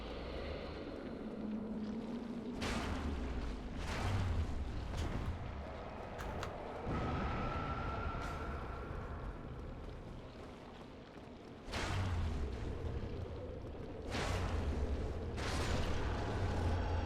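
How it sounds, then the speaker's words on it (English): Loud booming blasts from exploding skulls in Dark Souls Remastered on PC, several heavy bursts spaced out over a rumbling, windy game backdrop. "The explosions from those skulls do look better."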